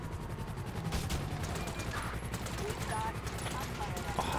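Pistol gunfire in GTA V cracks in a rapid run of sharp shots, close and punchy over a busy game soundscape, with a voice briefly speaking among the shots.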